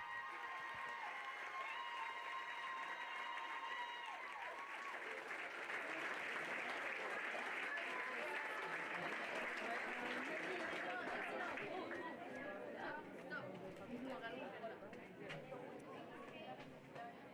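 An audience applauds at a pony eventing prize-giving ceremony, sustained clapping with scattered cheers swelling in the middle, a short musical jingle at the start, and fading slightly toward the end.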